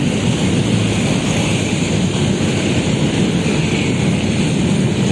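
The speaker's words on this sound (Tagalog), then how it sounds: "lakas ng hangin" Strong typhoon wind roars steadily against the microphone by the Pasig River, a dense, unbroken rush of noise with no voices.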